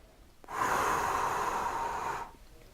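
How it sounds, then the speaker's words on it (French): A slow, steady exhalation during a square breathing exercise, one continuous breathy rush lasting nearly two seconds, close and fairly loud, with quiet before and after. "je vais expirer le même nombre de temps que mon inspire et que le blocage"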